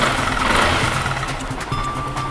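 An engine just started after an oil change idles steadily to warm up, a close, low and even rumble running without a break and with no voices.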